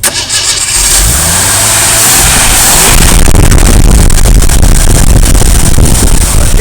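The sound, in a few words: Jeep CJ7 engine starting and revving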